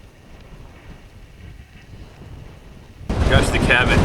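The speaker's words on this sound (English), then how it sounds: "Gosh, the cabin is extremely windy out here. Like, unbelievably windy." On an exposed Icelandic trail near a hut on the Laugavegur route, a low, faint rumble gives way to a sudden, loud blast of wind battering the microphone that roars on to the end.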